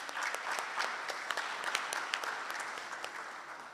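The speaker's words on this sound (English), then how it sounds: "We'll still give them a little clap." Guests at a scholarship luncheon give a brief round of clapping for the scholarship recipients. The crisp, scattered claps are fairly quiet and distant, forming a light, continuous patter.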